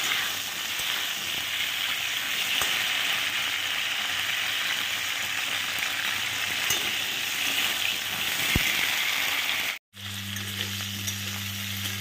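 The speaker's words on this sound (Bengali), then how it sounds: "কপিগুলো খুব সুন্দর করে লাল লাল করে ভেজে নিয়েছি।" Cauliflower florets fry in hot oil until browned, a steady dense sizzle that runs unbroken and fairly loud, cutting out briefly near the end before a low hum returns.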